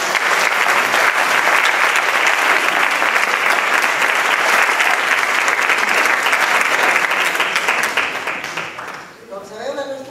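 Audience at a foundation event applauding for Paco Trull, the artist behind its poster, steady loud crowd clapping that fades near the end as a voice begins speaking.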